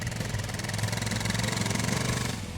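A Suzuki DR650 dual-sport motorcycle engine revving off-road: a continuous, loud, close, pulsing mechanical roar that holds steady throughout and eases off slightly at the end, with no talk.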